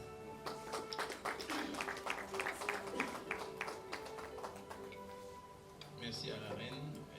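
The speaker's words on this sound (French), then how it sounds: "Encore un peu d'applaudissements" Audience applause for the queen at the opening of an intercultural summit, a steady patter of many hands clapping in a large room, with scattered louder claps and a voice briefly heard near the end.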